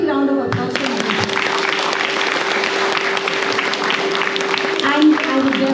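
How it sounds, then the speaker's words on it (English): Audience applause at a music event at Bhadrakali Temple in Hoskote, loud continuous clapping from a crowd throughout, with a sustained tone and some voices mixed in. "they deserve a big round of applause from everyone"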